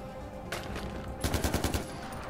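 Gunfire in the Far Cry 4 video game, with a single shot followed by a quick burst of about six rapid shots over a constant background hum, with no talk.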